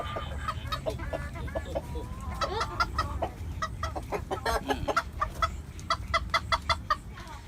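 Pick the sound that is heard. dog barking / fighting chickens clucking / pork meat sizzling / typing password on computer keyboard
fighting chickens clucking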